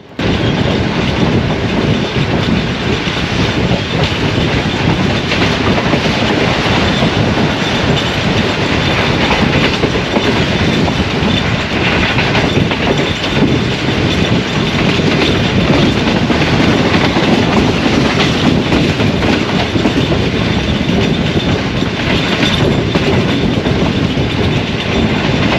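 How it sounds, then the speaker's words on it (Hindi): Shah Hussain Express train passing Mehrabpur, a loud, steady rumble of rolling wagons with continuous clickety-clack of wheels on rails, close and sustained throughout with no talking. "तकरीबन 11:54 पर मेहराबपुर से ट्रेन का गुजर हुआ।"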